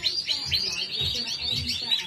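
Norwich canary hybrids chirping together in a bird room, a steady stream of bright, rapid tweets and trills from several birds at close range, with no talk over them.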